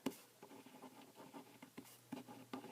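Pen writing on paper while working a maths exam problem, producing soft scratchy strokes and small taps in an irregular rhythm, close and faint with no speech.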